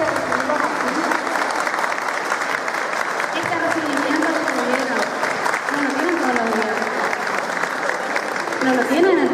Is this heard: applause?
yes